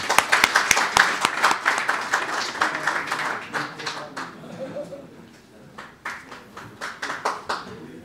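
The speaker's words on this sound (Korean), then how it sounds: "오늘 강연을 맡아주실 이강훈 사장님을 큰 박수로 맞이하도록 하겠습니다" An audience at a construction-industry breakfast forum claps to welcome a speaker, starting with sharp individual claps that swell into dense applause, dip briefly and then pick up again, with no voices over it.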